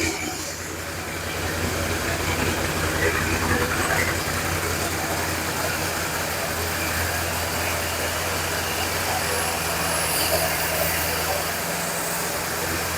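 An engine runs at a steady idle, with a continuous broadband rumble and a low drone, close and fairly loud for the whole stretch.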